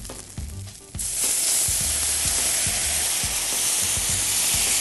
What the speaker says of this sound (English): Then we'll add a little bit of butter, and we'll add a little white wine.